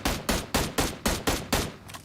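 Rapid gunfire in PUBG Mobile: roughly eight loud, close shots in an even, fast rhythm, each a hard crack with a short decaying tail, with nothing else around them.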